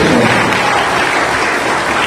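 Loud, dense applause from an audience at a Constitution Day event, steady and sustained throughout with no pauses.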